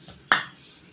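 A spoon clinks once, sharp and close, against a dish while raw green chilli is mashed and mixed into food, with soft faint scraping before it.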